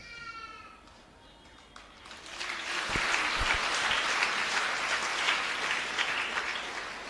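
A church congregation claps during a Hindi sermon. After a quieter opening with faint murmurs, applause swells and holds as a dense, steady patter for several seconds.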